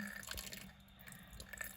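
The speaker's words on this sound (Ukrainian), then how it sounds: "Включаємо кран. Тут теплесенька, така струя." Warm tap water runs into a sink while snails are being cleaned, a steady close splash with dripping and trickling textures and no talk.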